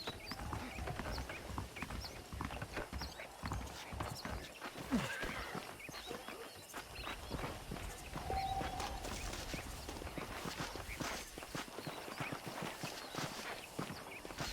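Horses in the Western game Red Dead Redemption, saddled and waiting at a ranch: steady hoof clip-clops on dirt with a short whinny, at low volume over continuous ambient outdoor background.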